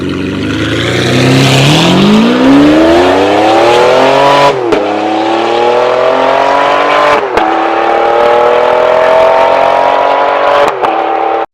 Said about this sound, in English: The ultimate V12 noise.